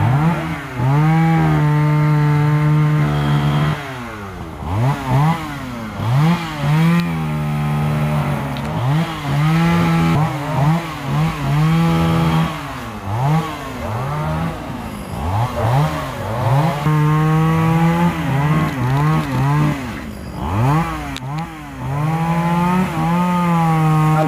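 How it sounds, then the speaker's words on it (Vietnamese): A chainsaw cuts the top of a golden-flowered tràm tree in Bình Dương, running loud and close with a steady whine that swings in pitch as the engine revs and bogs through the wood. "Rồi đang thả cái máy cưa xuống rồi."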